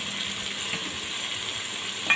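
Spice paste for a bhim fish curry sizzling and frying in a pot while being stirred, a steady close hiss with faint scraping of the spoon.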